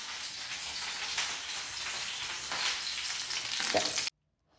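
Chicken with cauliflower fries in a home kitchen pan, a fairly faint, steady sizzle with light stirring that runs for about four seconds before cutting off abruptly.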